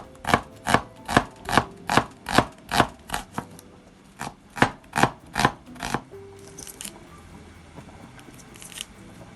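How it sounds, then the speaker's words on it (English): A knife slices an onion on a wooden board in about a dozen steady, evenly paced crunchy chops, close and crisp, then stops and leaves quiet kitchen background. "slice the onion"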